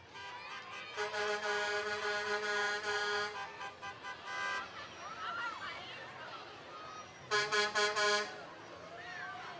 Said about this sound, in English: I know you're also scared of this honking from the towing company